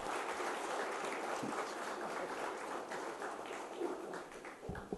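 Audience at a lecture welcomes the speaker P Chidambaram with a round of applause, heard as a faint, continuous wash of clapping that holds steady for several seconds.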